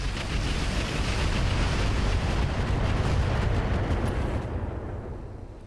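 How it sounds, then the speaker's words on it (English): Artillery barrage in the mech strategy game BattleTech with the Roguetech mod, a heavy continuous rumble of overlapping explosions that holds loud and then fades out toward the end. "They will not survive this opening barrage at this point"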